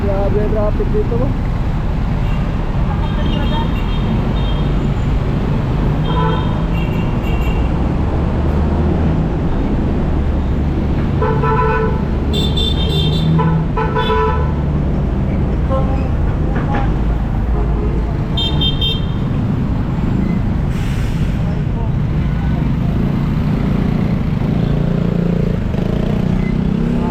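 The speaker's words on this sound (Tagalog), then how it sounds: "Grabe ang traffic dito mo." Congested Manila roadway traffic rumbles loudly and continuously, with repeated car horn toots and honks cutting through at intervals while someone talks over the din from a motorbike.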